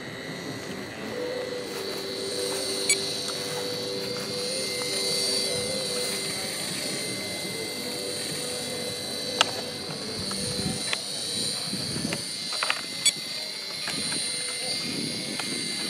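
Goblin 380 RC helicopter with a Skookum 720 Black Edition GPS unit in flight, a steady high rotor and motor whine with shifting tones, moderately near, with occasional clicks and rumbles.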